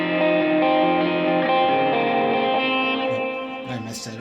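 Heavily effected electric guitar plays through the bridge of a worship song at full tempo, sustained distorted notes with reverb swelling loudly, then fading into a few scratchy muted strums.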